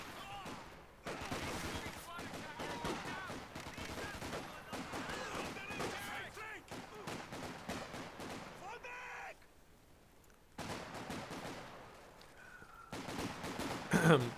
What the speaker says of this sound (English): I can hear Sten guns firing.